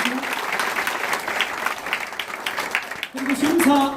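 Applause from an audience at a music contest festival welcoming a judge: continuous crowd clapping of many hands, steady and fairly loud, with a host's voice speaking over it and growing louder near the end.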